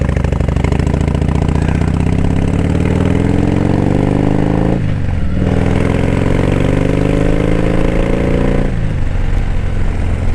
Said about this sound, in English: on idle this one is a lot more lumpier, as you would expect, than the Screaming Eagle